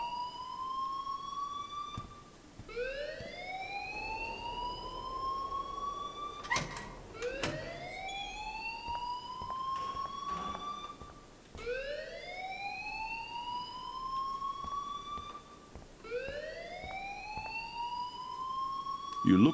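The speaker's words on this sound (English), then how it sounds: "please turn off that alarm since that's your job" A wailing electronic alarm in the Life is Strange video game, rising and repeating in steady sweeps about every four seconds, loud and continuous with faint background noise.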